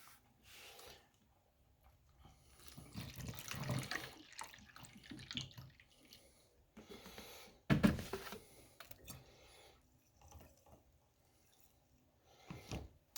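Vinegar pours through a funnel into a bottle in short, quiet bursts of trickling and gurgling liquid, with one louder splash partway through and faint handling noises between pours.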